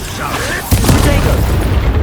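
Expulso spell explosion in the video game Hogwarts Legacy, a sudden loud boom that bursts in partway through and leaves a sustained rumbling blast, with a voice speaking over the action.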